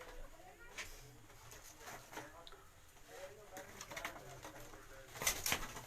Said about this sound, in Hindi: जी लाखी कबूतरी है जी